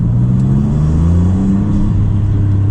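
A 2024 Maserati MC20 six-cylinder turbo engine pulling hard under acceleration, a loud, close rumble whose rising tones climb and settle as the revs build.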